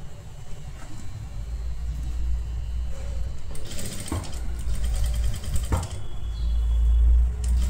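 A sewing machine stitches round the back part of a kurti, a steady mechanical whirr running through the clip with short bursts of faster stitching and a few clicks, close and moderately loud.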